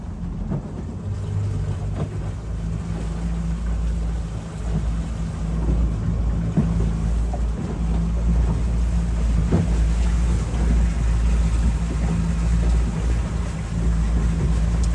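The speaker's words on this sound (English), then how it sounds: "So the engines are going to accelerate together." Steady low engine drone from a 2021 Yamaha 252 SE E Series boat accelerating, with rushing water and wind noise, growing slightly louder and rougher over the span.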